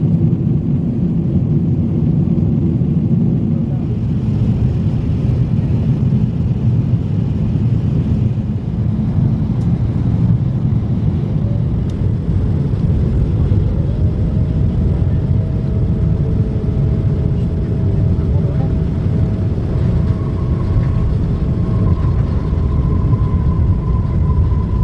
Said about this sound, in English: So we have just landed down in Dallas Airport.